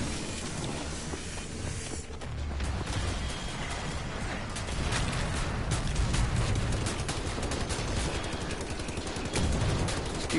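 Sustained automatic gunfire and turret fire from the shooter game Wolfenstein: The New Order, a dense, loud, continuous barrage of rapid shots lasting throughout, with crashing impacts layered in.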